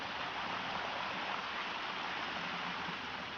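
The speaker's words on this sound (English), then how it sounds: "So as the water goes off, each step makes a different sound." Water running down the stepped stone garden cascade at Chatsworth, a continuous even rushing wash like a stream, steady and fairly close with no talk.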